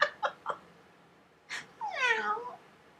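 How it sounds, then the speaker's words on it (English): A pet cat gives three short chirping meows, pauses, then lets out a longer, drawn-out plaintive meow, close and fairly quiet in an indoor room with no talking. "that was my little cat, Gizmo."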